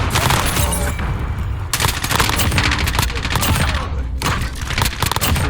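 Rapid gunfire rattles in dense bursts with booming hits in a video game shooter, loud and continuous throughout.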